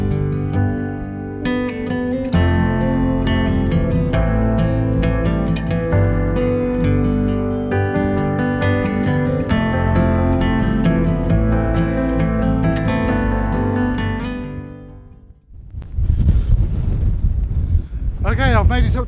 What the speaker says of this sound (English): You can probably tell by all the noises it's a lot windier up here.